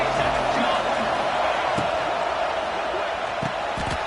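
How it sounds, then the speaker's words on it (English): Steady roar of a crowd at a high school football game, loud and continuous with a few scattered shouts and thumps rising above it. "This crowd bringing the energy and noise early."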